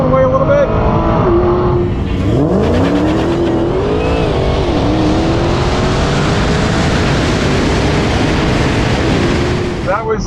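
A Tesla Model S runs a drag race against a muscle car, with loud engine roar and rising, sweeping revs as the cars launch and pull away, under excited commentary.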